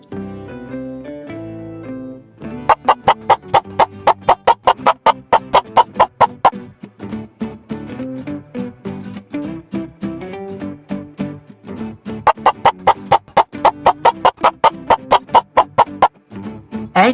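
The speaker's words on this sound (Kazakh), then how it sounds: "hen." Barnyard fowl call in loud, rapid clucking bursts over a tonal musical backing, with repeated runs of sharp calls near and clear.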